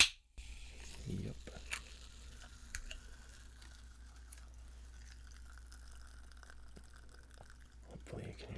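A freshly opened carbonated drink fizzes quietly up close, a sparse crackle of tiny bubble pops over near silence, with a couple of soft handling bumps.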